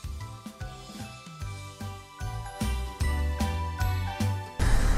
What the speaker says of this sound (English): And there's our bell.